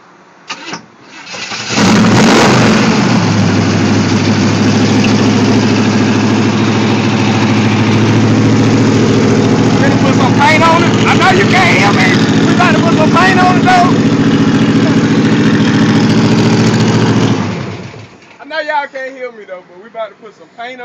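A rebuilt old-school car engine cranks and catches, then settles into a loud, rumbling idle that runs steadily for about fifteen seconds before cutting off, with someone talking over it and afterward.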